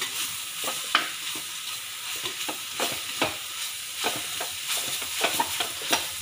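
Stinging nettle leaves being stirred in a hot pan: a spoon scrapes and turns them in irregular strokes over a steady soft sizzle, close and fairly clear, with no talking.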